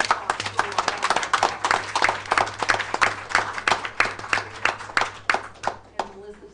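A school board meeting audience claps for an honoured school, with dense, steady applause from many hands filling the room and a few voices mixed in before it thins out at the end.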